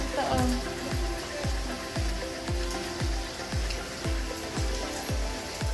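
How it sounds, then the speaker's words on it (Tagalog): Rain falls steadily outdoors, a dense hiss of drops on surfaces with regular, rhythmic thuds repeating underneath. "Sana naman wag na umulan."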